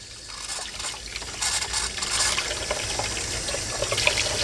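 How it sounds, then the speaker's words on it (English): A kitchen faucet on a cold water line just reconnected during a water filtration system install sputters and gushes steadily as trapped air escapes, a continuous hissing rush of water alone without talk. "we were just working on the cold water, so there she is. It's expected. A lot of air has to come out."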